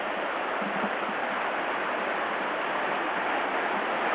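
Robson River in British Columbia running beneath a footbridge at a takeout point, a steady broadband rush of flowing water that holds constant and close throughout with no talk.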